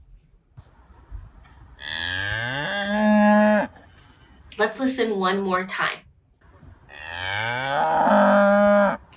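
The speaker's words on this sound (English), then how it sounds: "It's a cow." Three recorded cow moos, long, drawn-out and loud, separated by short pauses, with a voice speaking briefly between them.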